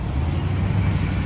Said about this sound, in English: there's a whole lot of cars